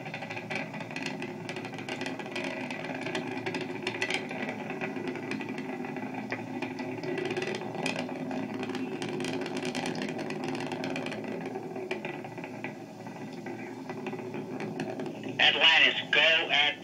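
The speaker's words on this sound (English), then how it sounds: "Engines now revving up, standing by for the throttle up call." Space Shuttle Atlantis main engines during its final launch, a steady broad roar through the transonic climb toward throttle up, with radio voice chatter and crackle riding over it and a brief burst of tones near the end.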